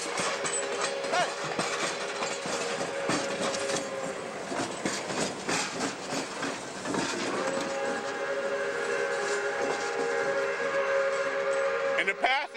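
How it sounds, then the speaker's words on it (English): A long train with three cabooses and an additional engine rolls past with steady clattering rail noise and whistle-like tones, moderately loud and continuous, with people's voices faintly underneath. "Got 1, 2, 3 cabooses and another engine"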